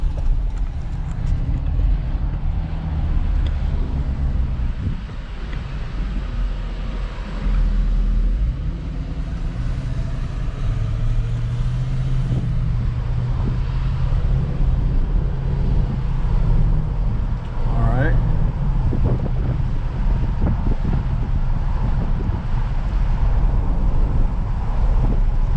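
A car drives with its windows down, giving a steady loud rumble of road and wind buffeting that runs throughout with slight swells, and no voices.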